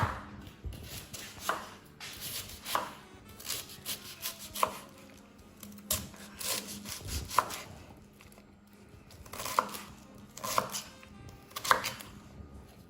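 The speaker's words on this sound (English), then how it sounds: "basically we just now chop it into little pieces" A knife chops food into small pieces for fishcakes and veggie slaw, with slow, irregular knocks and scrapes against a board, some louder than others, close up and without any talk.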